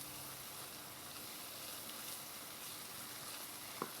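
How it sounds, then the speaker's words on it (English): A pan of tarragon chicken sauce with mustard gives off a faint, even sizzle, with a light stir and a single small knock near the end. "Give that a little stir around"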